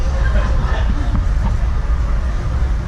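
Steady low rumble and rattling of a train rolling along the rails, heard from inside a carriage, continuous and fairly loud.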